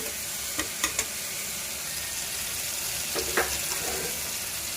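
Spice masala for homemade tarka frying in a pan, a steady moderate sizzle broken by a few short scraping and clinking stirs, two early and two later.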